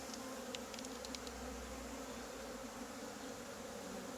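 A steady, dense drone of many honey bees buzzing inside a hive during an apiary inspection, continuous and close, with no voices.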